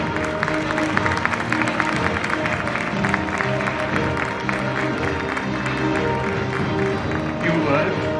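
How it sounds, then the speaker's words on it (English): Audience at the GayBombay Awards ceremony claps as an honoree is called to the stage; continuous mid-distance applause mixed with crowd murmur and speech over it. "A round of applause, guys"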